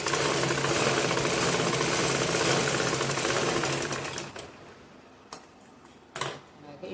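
A sewing machine stitches back tucks on a lining blouse, running in a loud, fast, steady rattle for about four seconds, then stopping, followed by a few short handling clicks.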